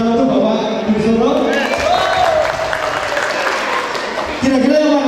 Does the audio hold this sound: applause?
yes